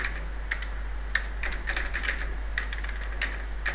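Fingers type an SQL insert statement on a computer keyboard, a close, steady run of irregular key clicks and taps over a low constant hum, with no talking.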